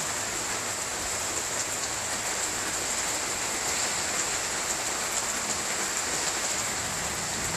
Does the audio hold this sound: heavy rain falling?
yes